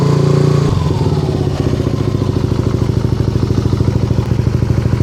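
A Yamaha Nmax scooter fitted with a 4S1M Street Core V3 muffler revs up to about 3,000 RPM, a loud, close, rapidly pulsing exhaust drone that holds steady after a brief rise.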